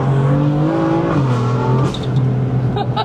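A BMW M4 straight-six engine revs up and shifts on a mountain road drive, the strong rising engine note climbing and dropping between gears, loud and close inside the car.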